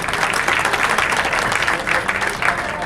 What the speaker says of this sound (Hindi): तो जरा जोर से तालियां बजाइए नवीन के लिए